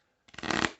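Tarot cards shuffled by hand in a single brief riffle lasting about half a second, a close, dense papery whirr that rises and fades with no talking.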